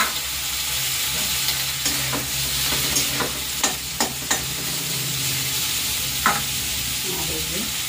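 Tomato, green chilli and ginger masala fries in a pan with a steady, close sizzle, broken by several sharp scraping knocks of a spoon stirring against the metal.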